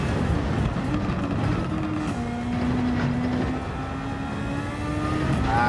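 Race car in Gran Turismo 7 braking hard and late then accelerating, a loud continuous engine drone with a rising and falling pitch, heard alone without talk.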